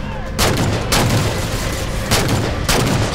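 Heavy weapon fire in Halo 4 booms out in repeated loud blasts, roughly every half second to second, each with a ringing tail, close and dominant.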